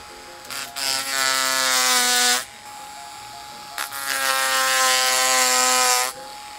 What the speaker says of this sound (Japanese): これからここのところの太い角みたいなのをちょっとナイフで削ってやる